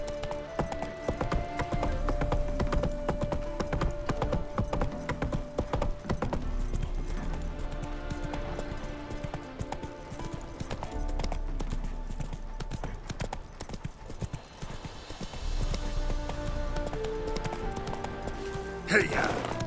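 Roach, the horse in The Witcher 3, gallops with rapid, continuous hoof clip-clops under game music, alongside occasional spoken lines and a loud thump near the end.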